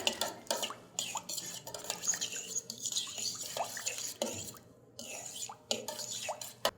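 Warm water, yeast and sugar are stirred together in a bowl for pizza dough: quiet, irregular clinks, drips and scraping strokes, close and soft, with no talking.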